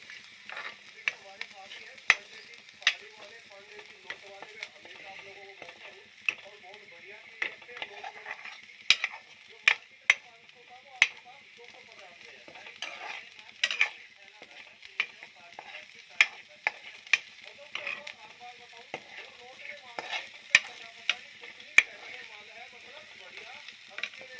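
Vegetables fry in a pan while a spoon stirs and scrapes through them in sharp, irregular clicks over a steady sizzle, close up, and a voice talks now and then underneath.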